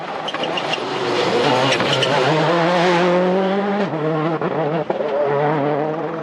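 Peugeot 206 WRC rally car on a Monte Carlo stage, its engine revving hard and shifting up and down through the gears, loud and close with sharp pops between shifts.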